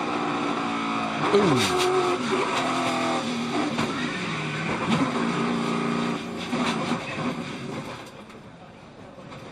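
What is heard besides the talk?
race cars crashing in a multi-car pileup at Daytona 500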